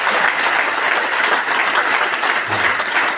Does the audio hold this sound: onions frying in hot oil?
no